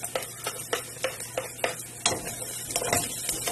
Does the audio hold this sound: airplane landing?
no